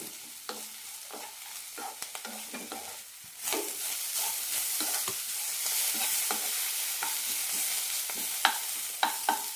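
Cabbage for chutney is sautéed in a pan. It opens with stirring scrapes and clicks, then a loud, steady sizzle swells in and runs beneath occasional spatula knocks.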